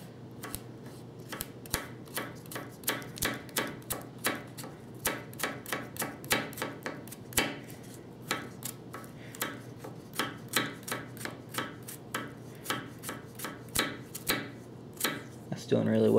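A hollow-ground Spyderco Manix 2 folding knife chops through a raw carrot in a steady series of sharp, crisp cuts, each a distinct crunchy snap, repeating roughly twice a second at close range.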